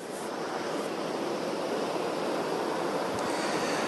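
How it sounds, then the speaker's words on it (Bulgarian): Strong north-northwest wind blowing across coastal northeastern Bulgaria, a loud, steady broadband roar with gusty buffeting on the microphone and sea surf underneath, continuous for the whole stretch with no voices. "Вятъра духа толкова силно, буквално дори аз в момента трудно се задържам на едно място"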